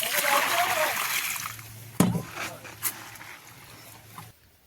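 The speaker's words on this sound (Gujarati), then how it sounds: "ટ્રેક્ટરમાં જ બેરલ છે એમાંથી લઈને જો આમાં પાણી નાખે." Water from a barrel carried on a tractor splashes into a freshly dug hole for a fence pole, a steady pour followed by a couple of sharp sloshes, close by, with someone talking over it.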